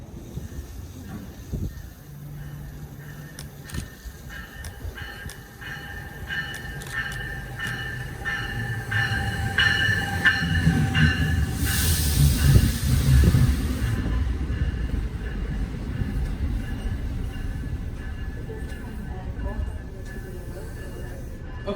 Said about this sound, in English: Next up is NJ Transit train 3849, on its way from New York Penn Station to Trenton,